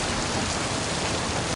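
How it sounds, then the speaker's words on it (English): Heavy rain pours in a steady, loud, full hiss from a street scene in the 2005 film Constantine, unbroken until it cuts off abruptly at the end. "Constantine, it's raining!"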